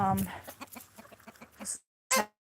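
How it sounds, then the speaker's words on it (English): Close-up chickens clucking in short bursts, with a person talking over them. "here's some of our chickens, which they have like little clicks"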